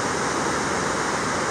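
A huge waterfall plunges from high above in the Alps, filling the air with a loud, constant broadband roar that never lets up.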